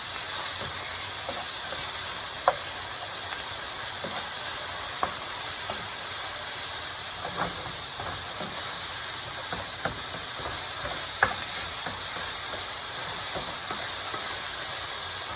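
Pork belly kimchi fried rice sizzles in a pan over high heat, a steady loud hiss with scattered small pops and crackles and no talking.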